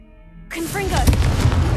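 A Confringo spell in Hogwarts Legacy bursts after a brief quiet lead-in, a sudden loud magical blast with a sweeping whoosh that rumbles on for over a second, close and full.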